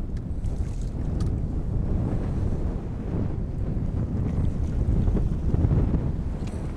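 Wind buffets the microphone on a fishing boat out on Cedar Lake, a loud, steady roar with gusty swells and faint water slapping beneath, and no one speaking.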